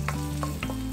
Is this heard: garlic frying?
yes